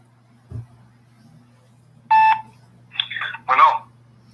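A telephone dialer gives a short steady electronic tone, then a few more brief beeping tones, clear and close in an otherwise quiet room.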